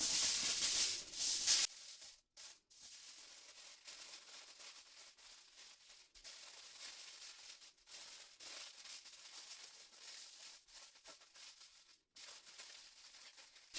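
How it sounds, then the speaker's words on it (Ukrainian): Aluminium foil crinkles and rustles as a stuffed duck is wrapped for roasting, with a louder handling burst at the start followed by quieter, intermittent crumpling close by. "І замотуємо у фольгу."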